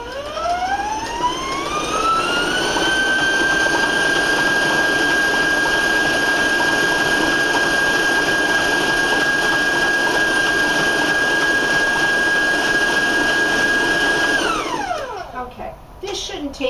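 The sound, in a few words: electric mixer beating lemon cake batter on high speed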